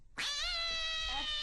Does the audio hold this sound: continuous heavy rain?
no